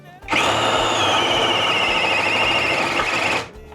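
A Grosser GCD 522T cordless drill, cracked and struggling on its second speed, spins up abruptly and whines loudly at a steady high pitch for about three seconds before cutting off.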